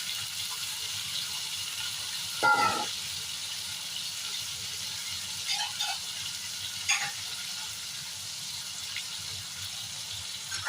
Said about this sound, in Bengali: আলুটা ভালো করে ভেজে নেব।